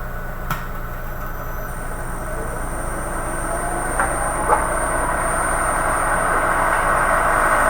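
Wood lathe spinning a workpiece for a baby rattle, a steady motor drone with a faint high whine, running continuously with a couple of light taps near the start and middle.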